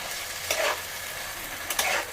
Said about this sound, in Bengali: তো এবার এই মশলার সাথে আলুগুলো ঢেলে দিল, ঢেলে দিয়ে এবার কষিয়ে নিচ্ছে।